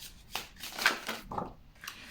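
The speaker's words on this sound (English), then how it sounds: "I'm going to live shuffle some cards right now from the Margaret Petersen Tarot for you." A deck of Margaret Petersen Tarot cards is shuffled by hand, producing several soft, close riffling and sliding bursts separated by brief pauses.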